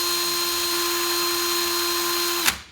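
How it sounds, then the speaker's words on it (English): Ryobi power tool motor with a slightly loose fit whines steadily at high speed, close and loud, then cuts off and spins down abruptly near the end. "You can kind of hear the motor in there is a little loose."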